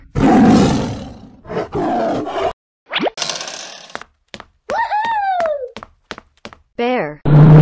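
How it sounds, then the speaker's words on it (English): A tiger roars among cartoonish animal sound effects, with loud roaring bursts broken by gaps, springy boings and plops. "Tiger."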